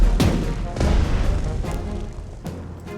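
Warship guns firing in the naval strategy game Strategic Mind: The Pacific, with several heavy booming shots in a loose sequence over a steady low rumble, loud and close.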